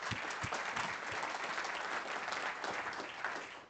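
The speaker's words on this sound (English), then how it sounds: "Round of applause, please." A conference audience at WORTECH11 in London applauds speakers coming on stage, a steady, moderately distant wash of clapping from many hands lasting throughout without a break.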